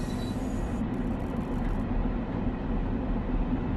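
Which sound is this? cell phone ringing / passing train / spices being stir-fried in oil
passing train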